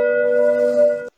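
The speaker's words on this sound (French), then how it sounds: "n'oubliez pas de mettre la cloche" A notification bell sound effect rings once, a clear sustained metallic tone with bright overtones lasting about a second before cutting off abruptly, loud and alone.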